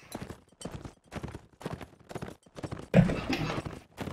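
Horses gallop in a video game battle, a burst of rapid hoofbeats and clatter arriving near the end after several seconds of faint, intermittent activity, moderately close.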